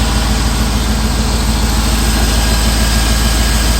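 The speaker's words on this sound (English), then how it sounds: "So if your old Chevy V8 runs that smooth" An old Chevy V8 engine idling smoothly, a loud, steady, close low rumble with an even, continuous drone and no talking.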